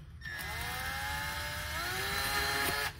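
A power drill whirs steadily for about three seconds, its pitch wavering slightly as it bites into wood, then cuts off abruptly.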